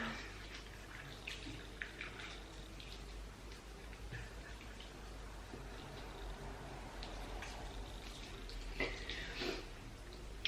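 Running water splashes as a face is rinsed during a skin-care routine. The splashing is soft, close and irregular over a steady low hum, with brighter splashes near the end.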